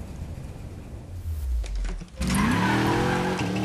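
A car in Need for Speed Payback brakes hard and skids, with a rising engine rush giving way to a loud, sustained tire squeal close up.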